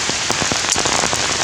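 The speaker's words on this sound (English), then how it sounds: "it had very heavy rain here" Heavy rain pours down on the jungle in a steady, loud wash of dense patter, with individual heavier drops and drips standing out now and then, and no voices.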